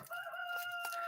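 A rooster crows close by in one steady, sustained call with a clear harmonic tone, heard alone with no talking.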